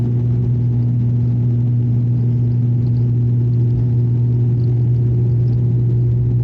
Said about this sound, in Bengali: ফুল ফোর্সে ইঞ্জিনকে পুশ করলে যে আওয়াজটা হয়